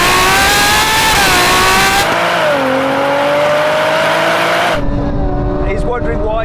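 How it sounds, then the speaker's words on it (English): A Nissan GT-R NISMO and a Ferrari 812 accelerate hard side by side in a rolling race from about 40 mph in second gear. Loud engine roars climb in pitch through upshifts, with heavy wind rush, and a sharp shift about two-thirds of the way through. "now we have a rolling race from about 40 miles an hour, roll on in second gear, full sport setting"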